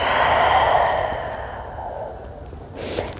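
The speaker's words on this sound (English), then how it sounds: "and a deep breath out." A slow, deep exhale during a calming evening wind-down yoga session, a long soft breath out that fades gradually, close and quiet, followed by a faint brief sound near the end.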